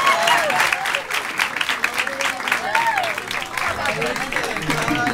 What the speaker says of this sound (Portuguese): Gente, aplaude ele.